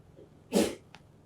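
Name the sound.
sneeze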